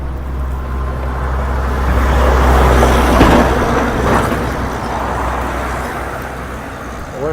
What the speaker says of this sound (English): Comes another truck.